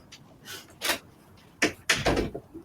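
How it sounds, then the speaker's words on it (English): Several clattering knocks and thuds as a door is handled and pushed shut nearby, with short pauses between bursts. "Right, door shut."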